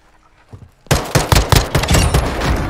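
Pistol gunfire in Warzone 2 on the drop, starting after a quiet moment with a quick string of loud, close shots in rapid irregular succession.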